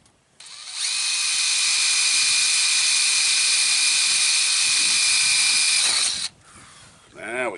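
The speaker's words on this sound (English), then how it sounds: "we'll take a small drill bit and we'll drill a pilot hole." A power drill with a small bit drills a pilot hole for an awning reinforcement, whirring steadily at high pitch for several seconds, then stopping abruptly, followed by a brief quieter mechanical whir.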